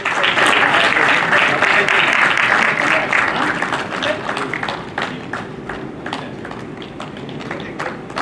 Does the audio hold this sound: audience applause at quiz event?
yes